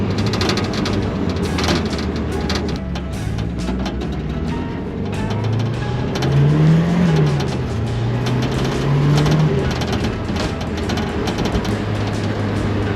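Loud, close engine roar of a turbocharged Mustang accelerating on new tires, the pitch rising and falling through gear changes under heavy road and wind rumble.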